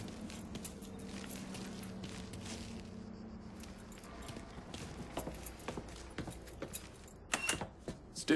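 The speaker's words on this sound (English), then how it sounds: "Hey, man, grab those keys." Keys jangle faintly in the crime game Mafia III, light metallic clinks against a low ambient background, growing a little busier and louder toward the end with no speech over them.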